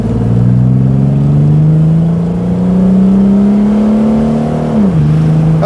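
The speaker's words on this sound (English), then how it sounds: "So we can do a standing acceleration test." Gilbern Invader Mk3 sports car accelerating hard from a standstill, its engine drone rising steadily and loud and close, then dropping at a gear change near the end.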